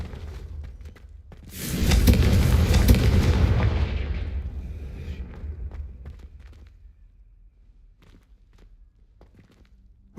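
A Confringo blasting spell explodes in the Hogwarts Legacy video game, a loud booming burst that swells suddenly, roars for a couple of seconds and then slowly rumbles away into quieter ambience.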